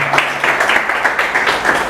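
Audience applause for a woman hosting the stage at a poetry event, brisk loud clapping from a crowd heard close up for a couple of seconds.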